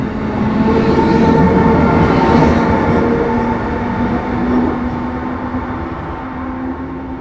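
An Amtrak Keystone Corridor train rolls steadily along the rails, accelerating back to speed, a loud, continuous rumble with a sustained tonal whine, gradually easing slightly in level.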